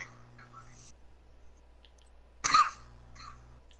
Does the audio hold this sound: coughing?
yes